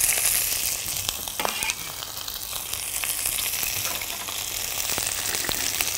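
Green onions hit a hot pan and sizzle loudly, a dense steady hiss of frying with occasional stirring clicks, close and without talk.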